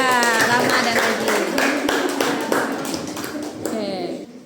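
A classroom group claps for a student group, with scattered, irregular hand claps under a teacher's speaking voice, fading toward the end.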